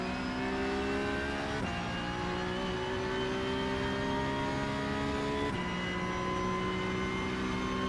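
A Porsche 911 Cup (992.2) race car in iRacing on the Nurburgring Combined track, its engine holding a loud, steady high-revving drone with two quick drops in pitch at gear shifts.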